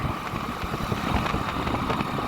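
A motorcycle rides along the road toward Amritsar, its engine a continuous rumbling drone blended with rushing wind noise, steady and close throughout.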